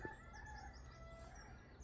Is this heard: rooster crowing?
yes